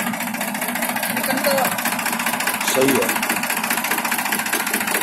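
A 2001 Mahindra 265 tractor engine idles with a steady, loud, throbbing knock in Muzaffarnagar, Uttar Pradesh. Someone speaks briefly over the rumble.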